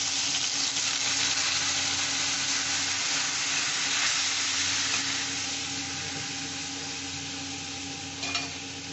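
Turmeric dissolved in water goes into a pan of frying fish curry with green chillies, giving a steady close sizzle and bubbling that softens slightly toward the end, with a brief utensil tap near the close.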